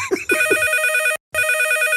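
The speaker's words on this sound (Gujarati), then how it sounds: "ફોન આવ્યો કાકા." A telephone rings loudly in a Gujarati radio comedy sketch, an electronic ringtone repeating with one brief pause. A short bit of low voice comes just before it.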